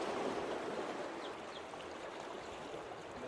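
Fijian Rum Co. rum liqueur, about 15 ml, poured into an espresso martini cocktail: a steady, soft liquid trickle that runs the whole short stretch with no talking over it.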